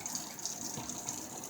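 Warm water is poured into a fry bread mixture of basic dough ingredients, a soft, steady trickle and splash heard close and quiet throughout, with no talking.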